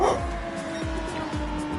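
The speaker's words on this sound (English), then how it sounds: "my dog is speaking" A pet dog gives a few short barks and yips at a moderate distance, spaced about every half second, over a steady background hum.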